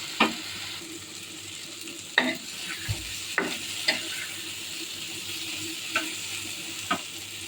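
A spoon scrapes and taps against a pan as chili powder, turmeric, salt, cumin and ginger-garlic paste are stirred and fried for a shrimp curry. Soft, sparse strokes come every second or so over a faint, steady sizzle, with no talking.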